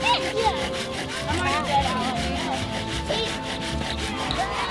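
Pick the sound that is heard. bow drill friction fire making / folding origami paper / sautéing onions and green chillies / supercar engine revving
bow drill friction fire making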